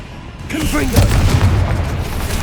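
A Confringo fire spell bursting in the game Hogwarts Legacy, a loud booming blast that rolls on with rumbling crackle after a brief shouted voice.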